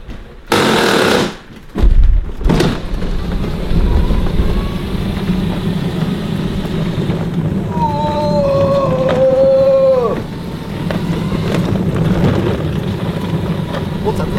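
A Sinclair C5 electric vehicle, pedalled at first and then powered, pulling away. Loud clunks and knocks come first, then a rough, rattling drive noise with a rising and falling electric motor whine in the middle.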